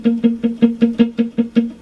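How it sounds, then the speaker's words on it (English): Electric guitar strings muted with the palm against the bridge, a steady run of about ten short, dull chugs at an even rhythm, close and alone. "If I put my palm against the bridge, it's going to sound like this."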